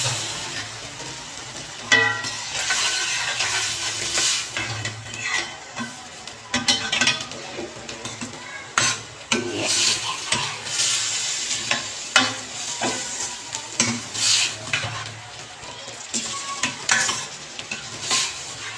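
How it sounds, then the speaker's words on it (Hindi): Boiled black chickpeas stir-fried in a pan, with continuous sizzling broken by repeated spoon scrapes and clatters against the metal, close and without voices. "ये मैंने डाल दिया इसमें, थोड़ा सा इसको उसके साथ भून लेते हैं"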